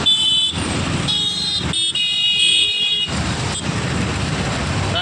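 Heavy road traffic near the Musi river at Chandrayangutta, with engines rumbling past, a horn sounding in the middle, and a steady roar of vehicles close by.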